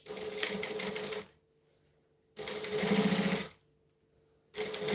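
Sewing machine stitching a jacket runs in steady bursts, a fast rhythmic whir for about a second, a pause, then another longer run and a third starting, close and clear.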